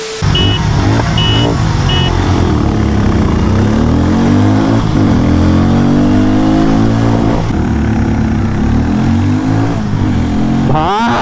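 A Hero Mavrick 440 and a Harley Davidson X440 motorcycle accelerate hard side by side on a highway drag race, engines rising in pitch through several gear shifts in a loud, close, continuous roar.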